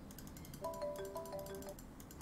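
A phone ringtone sounds in the detective video game Unheard, a faint, steady electronic ring of layered tones lasting about a second amid muffled background noise.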